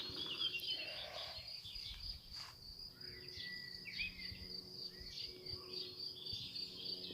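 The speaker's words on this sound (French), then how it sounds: "Vous entendez les oiseaux?" Birds chirp and trill at a distance over a steady high insect drone, an outdoor garden ambience with no talking.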